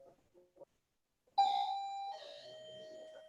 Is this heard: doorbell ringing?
yes